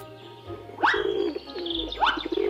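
A pigeon coos twice in a toy farm setting, each call a rising throaty note followed by a softer trailing coo, close and clear over a low steady hum.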